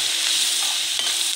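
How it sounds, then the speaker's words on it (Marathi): Ginger and garlic crackle in hot oil in a pan, a dense and steady close-up sizzle with a brief stirring scrape near the middle, and no voices. "आता आपण अद्रक आणि लसूण टाकून घेऊया। अद्रक लसूण थोडंसं हलवून घेऊ।"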